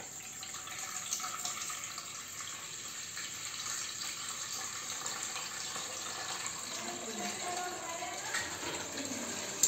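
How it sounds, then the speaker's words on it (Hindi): A domestic water pump motor on an automatic switching system restarting, with water flowing steadily as a broad continuous rushing hiss for nearly ten seconds, moderately quiet and even. "आप देख सकते हैं कि मोटर पुनः चालू हो गया है"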